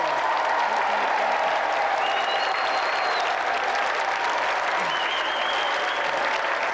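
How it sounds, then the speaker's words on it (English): Steady applause from a large studio audience at a TV game show, a dense continuous patter of clapping that holds at an even level throughout. "a round of applause for our challenger, Warren Brazier, and the undefeated champion"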